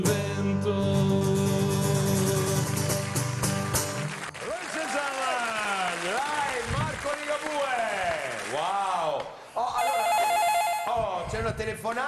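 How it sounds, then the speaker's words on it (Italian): A telephone rings with a sustained electronic tone during an Italian television variety show studio broadcast, followed by a person talking loudly over the studio ambience. "Telefonata, non me l'aspettavo."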